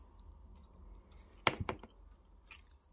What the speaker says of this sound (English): I'm going to cut that weaving wire as well.